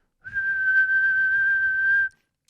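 A person whistling one sustained, clear note for about two seconds, close and fairly loud with only a slight wobble in pitch, starting and stopping cleanly against silence.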